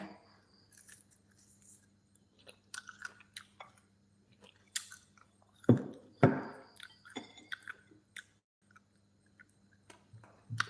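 A crunchy tamarind snack is chewed up close, with uneven bursts of crisp crunching and biting separated by quiet pauses, a couple of louder crunches in the middle.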